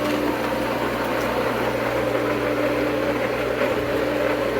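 Pool pump running on its own while struggling to pull water through a clog, a steady close mechanical hum with low droning tones holding evenly throughout, no voices.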